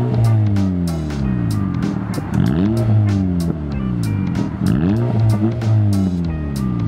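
A 2015 Honda CR-Z with a 1.5-liter engine and custom exhaust with the muffler deleted revs up close by, several rising and falling revs in a row, loud and steady with a smooth note.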